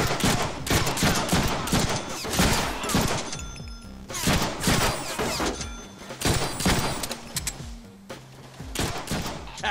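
Intense gunfire in the Deadpool video game, rapid bursts of automatic shots in repeated waves with short lulls between, loud and dense with heavy thumps.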